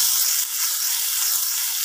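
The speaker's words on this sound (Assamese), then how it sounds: "বেঙেনা ফ্ৰাই কৰি ৰখা তেলখিনিতে আমি পিঁয়াজ আৰু আদা ৰচুন" Onion, ginger and garlic sizzle in oil left over from frying brinjal, giving a loud, steady hiss of frying throughout.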